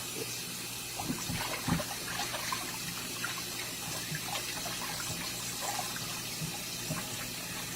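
Water running steadily while a large blue catfish is rinsed in a sink, with continuous splashing and trickling plus scattered small knocks and sloshes throughout.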